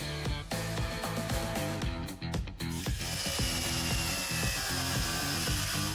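A power tool cuts metal from a car's front bumper in a workshop, loud rhythmic grinding and rattling with repeated pulses, briefly pausing midway before continuing steadily.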